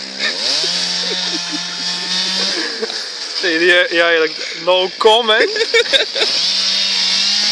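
A Stihl 361 chainsaw drones steadily and then bogs down making a vertical cut through wood, its pitch rising and falling under the strain, while someone talks over it.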